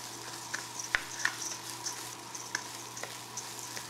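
Basmati rice with cardamom, cinnamon and cloves frying in a pan for mutton biryani, a soft steady sizzle broken by faint scraping clicks as it is stirred.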